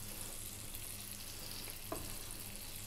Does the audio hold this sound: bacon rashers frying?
yes